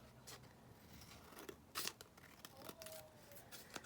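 Scissors snip through paper ephemera in short, faint crisp cuts with light rustling. One sharper burst comes near the middle. It sits close and quiet.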